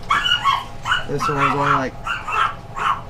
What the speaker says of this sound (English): Looks like somebody's coming in driving the dogs nuts.